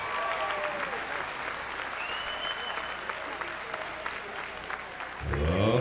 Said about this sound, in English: a round of applause for a hard-fought opening contest